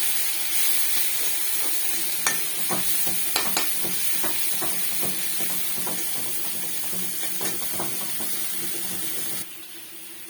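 Leafy greens (shak) fry in a pan with a steady, close sizzle, broken by scattered stirring scrapes and taps, and the sound drops off sharply near the end, with no talking.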